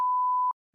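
A podcast soundboard button fires a single clean, steady electronic beep about half a second long, loud and isolated, followed by silence and a faint trace of sound at the end.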